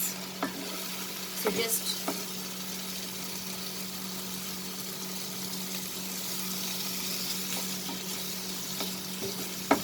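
Prawns for a prawn keema sizzle steadily in a pan while being stirred, with a constant frying hiss and occasional utensil scrapes and clicks; a voice speaks briefly.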